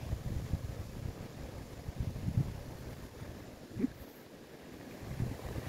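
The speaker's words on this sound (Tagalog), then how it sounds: "Lakas ng hangin guys. Sobrang lakas." Strong, cold gusting wind buffets the microphone outdoors by open water, a steady low rumble with a few harder blasts and no talk.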